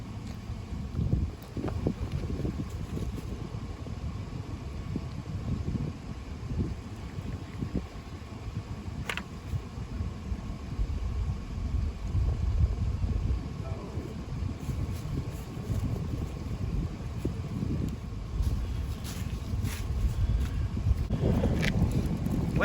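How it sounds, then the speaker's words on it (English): Strong, cold wind buffets the microphone on a riverbank during catfish bank fishing, making a constant deep rumbling roar that lasts the whole time and has no clear pauses. "And the wind's making it where you cannot stand this cold."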